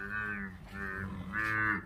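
A freshly calved dairy buffalo moos three times in a row, loud and close, each call a drawn-out harmonic low with short pauses between.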